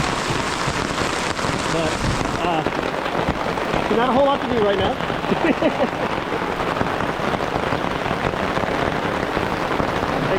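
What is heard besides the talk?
rain falling on tent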